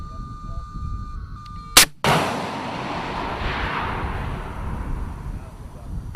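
A FIM-92 Stinger missile launches in live-fire target shooting, a sharp loud crack followed by a sustained rushing roar that fades slowly as the missile flies off, with faint voices and wind beforehand.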